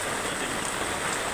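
Steady rain pours down at a lakeshore fishing tournament in Pampanga, a dense, even hiss of drops on surfaces filling the whole moment with no voices.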